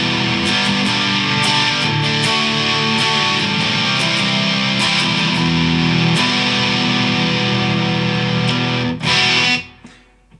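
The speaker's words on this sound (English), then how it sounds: "Let me add some distortion and play those same chords." An electric guitar strums open chords through heavy distortion, a thick sustained wall of overdriven tone with rhythmic strums, loud and alone, ending in an abrupt cutoff as the ringing dies.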